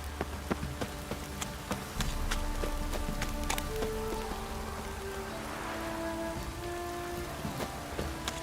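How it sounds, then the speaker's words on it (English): Heavy rain falls in The Witcher 3, a steady, moderately quiet downpour hiss broken by scattered sharp drips and knocks, with faint hoof-like clopping in the background. "This downpour's a bastard"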